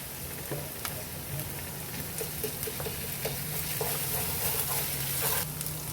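Chopped onion sizzles steadily in a hot pan of oil for a hotel-style bhindi masala, a soft continuous frying hiss with faint stirring scrapes and small crackles throughout.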